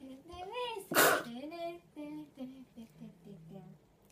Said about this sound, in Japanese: すいません、私くしゃみやりすぎました。